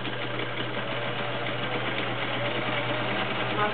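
A Viking 6370 sewing machine stitches a decorative cam pattern, its steady whirring motor running continuously and close up for several seconds with no talk.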